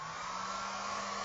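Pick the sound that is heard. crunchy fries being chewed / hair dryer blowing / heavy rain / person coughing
hair dryer blowing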